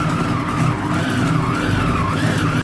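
A Compact Cook Elite food processor runs at speed 6 without heating while mixing puff pastry dough, giving a loud, steady mechanical whir with a wavering motor whine, continuous and alone.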